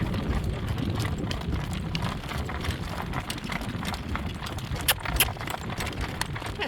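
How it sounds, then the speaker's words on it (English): A horse pulling a cart clip-clops at a steady pace, with hoofbeats close and even over continuous rolling and jingling harness noise on a warm afternoon drive. "He's such a happy horse to drive."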